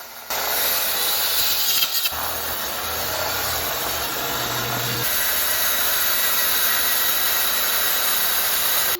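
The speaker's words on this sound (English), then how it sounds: "Now I have to cut these down to size, and keep in mind, this is walnut." A power saw cuts solid walnut boards to size, with a loud continuous whining, rasping cut that holds steady throughout, briefly dipping in tone early on.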